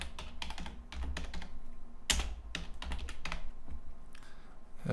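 Someone types on a computer keyboard: bursts of quick, close key clicks with short pauses between runs and a louder keystroke near the middle, no voices.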